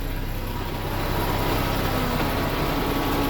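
A PACCAR MX13 diesel truck engine idles with the engine brake off, a steady, even low rumble and hum running unbroken throughout with no voices.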